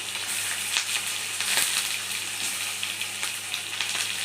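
Chopped onion and green chili frying in hot oil as a tempering for idli upma, giving a continuous loud, dense sizzle with small bursts and stirring noises and no voices.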